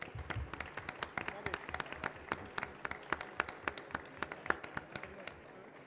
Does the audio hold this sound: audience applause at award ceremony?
yes